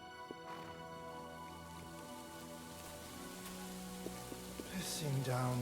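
Heavy rain pours steadily in Kingdom Come: Deliverance 2, a dense even hiss with music tones sustained over it and a brief voice near the end.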